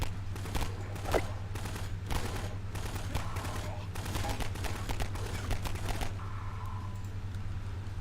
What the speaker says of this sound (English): Oh, now they've responded. Okay, now they've got the shotgun.